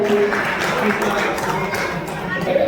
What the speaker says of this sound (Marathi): एकदा जोरदार टाळ्या होऊन जाऊ द्या या दोघांसाठी